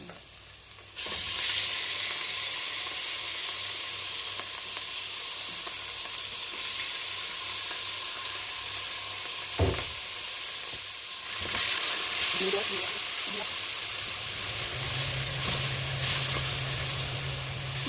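Chicken pieces hit a hot pan for arroz caldo and fry with a steady, loud sizzle and crackle that carries on throughout, with brief stirring sounds partway through.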